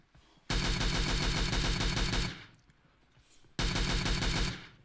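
Sustained automatic gunfire from PUBG Mobile, two loud continuous bursts of rapid shots separated by a brief lull, close and dominant.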